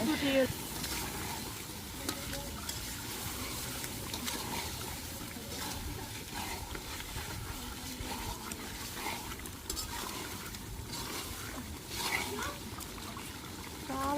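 Chicken meat stir-fries in a pan with a steady, soft sizzle and occasional stirring scrapes. Faint voices come and go at moments through the clip.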